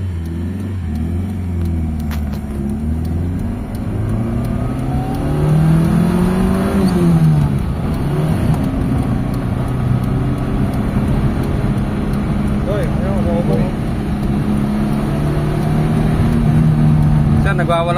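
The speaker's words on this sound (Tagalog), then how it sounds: "nagwawala yung makina natin" A Mitsubishi Lancer's engine, just repaired after an idle issue, revs hard on a night test drive, its loud rumbling drone rising and falling steadily throughout, with a person talking over it.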